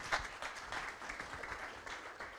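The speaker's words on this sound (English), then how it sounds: "Another applause," Audience applause at a cyber meetup event, a soft, continuous patter of many hands at moderate distance, steady through the short stretch with one slightly louder clap early on.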